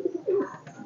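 A pair of white pigeons in a loft gives soft low coos, two or three brief throaty notes close by and fairly faint.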